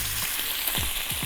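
Dried meat frying in a very hot oiled pan, a loud steady sizzle close up with a few quick low pops and scrapes.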